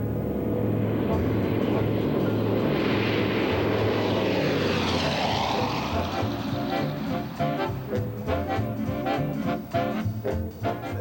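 Vintage Douglas DC-3 propeller airliner engines drone loudly and steadily at close range, a thick rumbling roar that swells and shifts in pitch midway, then settles into a throbbing pulse toward the end.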